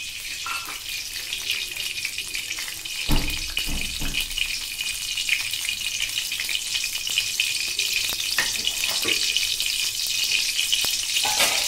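Spice tempering sizzles in hot oil for a Bengali katla fish curry with taro, a steady, fairly loud crackling hiss that runs throughout with a few sharper pops and no talking.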